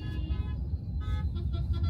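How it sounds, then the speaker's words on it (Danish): Car horns toot now and then over dense road traffic around a vehicle carrying people between halls, with steady engine rumble and no speech. "Og som I kan fornemme, så bliver det dyttet lidt omkring os."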